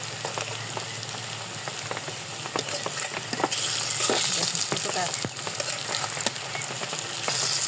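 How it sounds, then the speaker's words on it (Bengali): Pointed gourd pakoras sizzle and crackle steadily in hot oil, a dense close frying hiss with scattered pops that swells louder partway through, no talking. "সুন্দর দেখে সুন্দর করে এখন ভালো মতো ভেজে নেবো"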